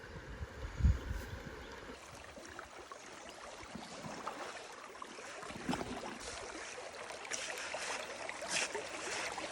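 A gold pan swirls through water during speed panning, producing steady soft sloshing and trickling with occasional splashy surges and a low bump near the start.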